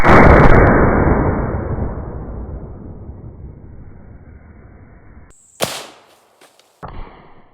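A 25-20 WCF rifle firing 60 and 86 grain bullets into water jugs outdoors: one loud blast rolls off in a long fading echo, followed later by two sharp, brief cracks.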